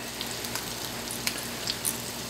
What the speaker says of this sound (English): So now just let that sizzle up a bit.